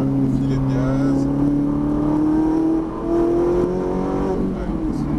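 A Ferrari 458 Italia engine pulls on light throttle, its smooth tone rising gradually in pitch, dipping briefly midway, then climbing again, loud and close, with talk faintly in the background.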